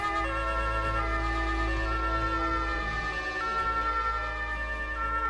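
Fire engine and ambulance sirens wail together in the Emergency 2013 game as rescue vehicles gather in the courtyard beneath the Eiffel Tower in Paris, a steady layered siren tone over a deep constant rumble with no pauses.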